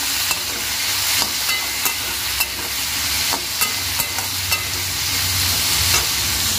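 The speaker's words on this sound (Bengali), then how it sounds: "আর একটু ভাজা করে নেব।" Bitter gourd frying in a pan with salt and turmeric, a steady close sizzle broken by repeated sharp scrapes and clicks of a spatula stirring the slices, with no talking.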